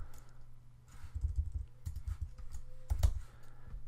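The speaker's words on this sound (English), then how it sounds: "so I'll just type in MPEG Streamclip" Keys clatter on a computer keyboard while a file name is typed in, a quick irregular run of close clicks with a sharper keystroke near the end, over a low steady hum.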